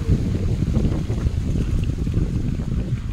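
Strong cold wind gusts across the microphone at Bihu Lake Park in Taipei, a loud, rumbling buffeting roar that swells and dips continuously, with no voices.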